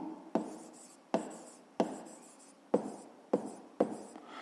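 A pen writes on paper during a fifth-grade maths exercise on cube volume, giving six sharp scratchy strokes, each fading before the next, close and fairly loud with no talk.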